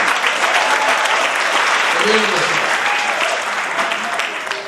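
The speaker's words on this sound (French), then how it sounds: "on peut l'applaudir une fois de plus" Guests at a civil wedding in Brazzaville applaud the groom with dense, lively clapping that stays steady throughout, with voices faintly mixed in.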